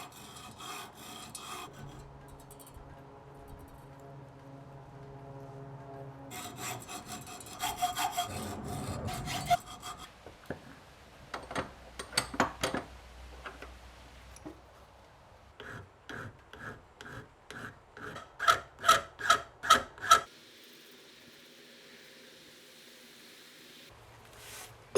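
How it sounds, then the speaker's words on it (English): Pins on a san mai Bowie knife handle being filed and sanded down by hand, heard as steady rasping strokes that give way to a run of sharper, louder rhythmic scrapes, close and with no talk. "Now I've got to chop the pins off and then very carefully file and sand them down"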